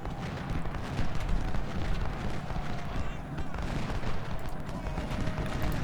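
Artillery booms and massed rifle fire from an Ultimate General Civil War battle at Gaines' Mill roll on continuously as a dense, loud rumble, with a voice talking over the top.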